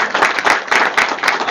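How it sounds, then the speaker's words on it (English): An audience at a live reading claps in a short, dense burst of applause, loud and close, swelling and easing in quick waves with no voices on top. "So give yourselves a round of applause for coming out."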